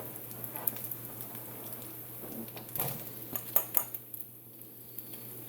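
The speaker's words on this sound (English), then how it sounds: "I'm going to go ahead and add our onion to this" Chopped onion tipped into a pan of cooked bacon and fat for linguine carbonara, a few faint scattered clatters and light sizzling hits against a quiet kitchen background, with no talk.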